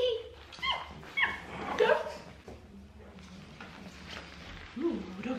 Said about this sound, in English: doggy number two.